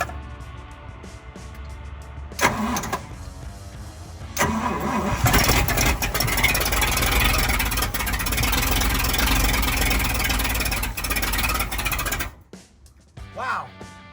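A fire truck engine cranks over and catches, then runs loud and rough with a tractor-like chug for several seconds before cutting off, followed by a brief quieter sound.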